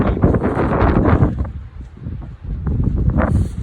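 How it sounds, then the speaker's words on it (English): Strong wind buffets the microphone in heavy, uneven gusts, roaring loud and close with a brief lull midway, outdoors at a camp with aluminum tent poles. "it don't matter how hard this wind blows"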